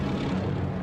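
A propeller aircraft drones overhead in a brief, steady rumble, moderately loud with no voices.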